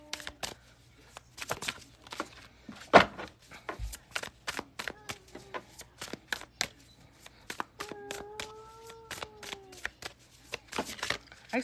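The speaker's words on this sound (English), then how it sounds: "I swear I shuffled." Oracle cards being shuffled by hand, a run of short papery riffles and taps spread across the clip, close and fairly quiet, with no one talking.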